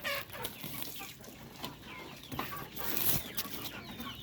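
Native chickens and ducks cluck while being fed cracked corn, a busy cluster of soft, close clucks and chatter with scattered sharper calls throughout.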